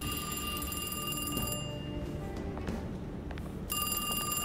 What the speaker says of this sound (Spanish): El teléfono, efectivamente.